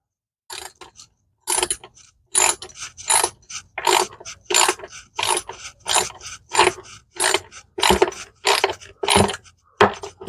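A ratchet wrench tightening hydrofoil mounting bolts on a boat outboard, clicking in a steady run of repeated strokes with brief pauses, close and fairly loud with no talk.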